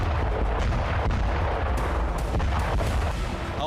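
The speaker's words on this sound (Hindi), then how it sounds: "धरती पर एक के बाद एक कई धमाके हुए" Cluster bombs go off in the Ukraine war near Avdiivka, a dense, continuous roar of explosions running together, with a few sharper cracks standing out.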